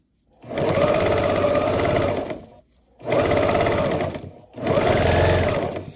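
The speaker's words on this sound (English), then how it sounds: "here's where I'm going to run a line of stitching just around the top" A domestic sewing machine runs a line of stitching around the top of a fabric heat massager cover, whirring steadily in three close, loud bursts separated by brief pauses, with no talking.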